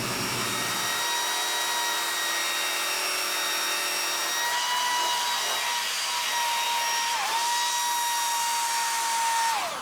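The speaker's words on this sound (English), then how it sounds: "use just a combination of a drill with a disc on it" A high-pitched drill fitted with a sanding disc whines steadily while grinding a turned wooden bowl, with a constant abrasive hiss and small shifts in pitch as pressure changes.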